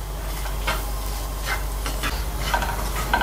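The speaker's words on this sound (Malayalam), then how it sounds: "ഇതൊന്ന് 1 minute നേരം ഒന്ന് ലോ ഫ്ലെയിമിൽ ഫ്രൈ ചെയ്യുക" Chicken and masala for Chettinad pepper chicken frying on a low flame, a steady soft sizzle with bursts of scraping stirring strokes in the pan, close and without talk.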